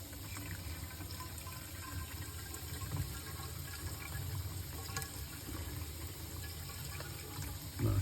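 Water runs slowly and steadily into a backed-up lavatory or kitchen drain pipe, making a continuous gurgling wash with a louder surge at the end.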